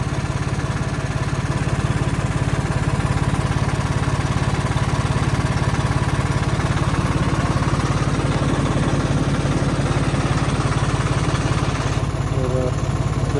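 A tractor engine running in a sugarcane field in the rain, a loud steady low rumble close by that continues unbroken throughout.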